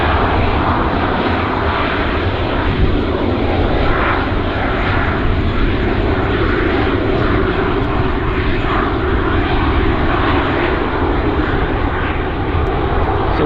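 Engines of an Air North aircraft at Vancouver airport make a loud, steady, broad roar that holds constant without breaks, with no talking.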